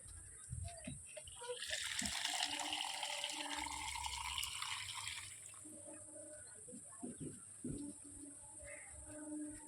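Water pours and splashes steadily onto dried-out plants for a few seconds, close by, then tapers off into light outdoor sounds and brief voice fragments.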